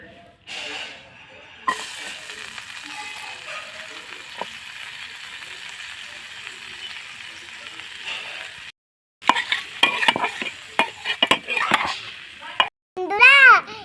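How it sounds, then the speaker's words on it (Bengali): Chopped onion goes into hot oil left from frying fish and sizzles with a steady, moderate hiss for several seconds, then the frying continues beneath a child's chatter and other voices. "ওই তেলে আমি পেঁয়াজ কুচিটা দিয়ে দেব"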